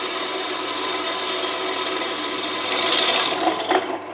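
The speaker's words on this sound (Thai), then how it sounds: "เจาะลงไปแบบง่ายๆอ่ะครับอ่ะดูอีกสักรูนะครับ" A Dtech 13 mm 450 W drill press bores into wood, giving a continuous whining motor hum with a rasping, grinding bite that grows louder and rougher near the end as the bit cuts deeper.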